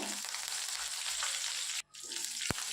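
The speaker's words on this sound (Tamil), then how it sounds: "1 கொத்து கருவேப்பிலையும் சேர்த்துட்டு நல்லா கலந்து விட்ருங்க." Mustard seeds, urad dal, dried red chillies and curry leaves sizzle hard in hot oil, a steady crackling hiss that drops out briefly near the end before resuming, followed by a single sharp clink.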